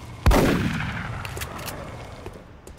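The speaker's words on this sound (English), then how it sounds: "We're not gonna waste a second shotgun shot on that." A single loud shotgun blast in the video game XCOM Enemy Within, a sharp boom that rings out and decays slowly over the next two seconds.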